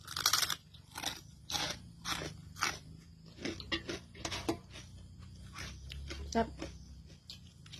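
Someone eats a Thai meal with sticky rice by hand, close crunchy bites and wet chewing in repeated bursts, with soft sounds of handling food in between.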